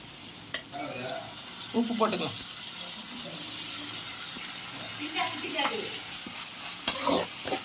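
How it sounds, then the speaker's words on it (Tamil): Tomatoes sautéing with salt in a pan for sweet corn kurma, a steady close sizzle with intermittent stirring and scraping, while a person talks over the cooking. "இப்போ வந்து நம்ம தக்காளி போட்டுக்கலாம். தக்காளி வதங்க கொஞ்சம் உப்பு போட்டுக்கலாம்."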